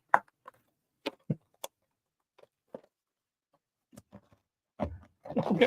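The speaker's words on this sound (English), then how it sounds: "this is the sound of me struggling with a box." Scattered dry cardboard taps, scrapes and knocks from someone wrestling open a model aircraft kit box, a B-17 bomber kit, sparse and close, building to a denser rustling flurry at the end.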